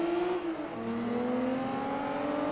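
Engine of a Nissan Skyline racing on tarmac in Forza Motorsport 3, holding a steady, close roar that shifts down briefly then climbs again smoothly, with no voices.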